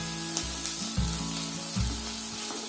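Chicken sautés in a hot pan for rogan josh, a steady sizzle broken by several stirring scrapes and clacks, close and fairly quiet, with no voices.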